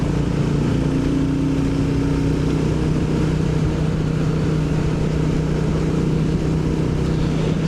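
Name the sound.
Royal Enfield Bullet 350 motorcycle riding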